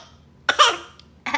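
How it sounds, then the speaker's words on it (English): A child coughs on her own spit without eating anything, giving two short, sharp coughing bursts close to the microphone with a brief pause between them, and no talking alongside. "Are you coughing on your own spit?"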